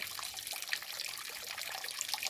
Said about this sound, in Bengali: এই যে দেখুন জলটা ওভারফ্লো করে দিলাম